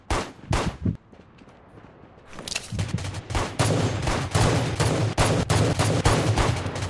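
Rapid bursts of gunfire from the PC video game Rules of Survival, sharp loud shots cracking in clusters over a steady low rumble of in-game ambience, with no talk.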